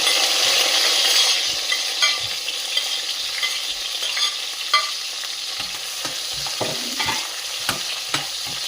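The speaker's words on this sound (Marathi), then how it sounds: "त्यानंतर आपण टोमॅटो, कांदा, अद्रक, लसूण टाकून हे चांगलं परतवून घेणार आहोत।" Tomato, onion, ginger and garlic frying in oil in a pan, a continuous bright sizzle with scattered stirring clicks and scrapes, the hiss loudest at first then settling lower.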